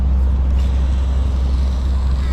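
A groundskeeper's small motor vehicle drones close by with a loud, steady low engine rumble.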